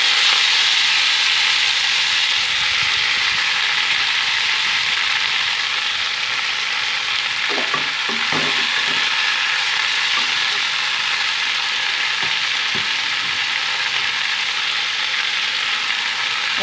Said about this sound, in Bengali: এবার আমি অ্যাড করে দেবো কেটে রাখা লাল শাকগুলো।